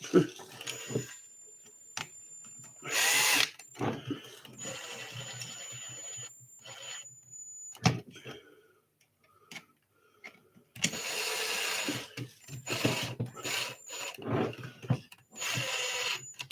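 Bursts of a cordless power drill tightening screws on a stunt truck being rebuilt, several short whirring runs of a few seconds each separated by pauses, with clicks and handling noise in between and a voice talking at times.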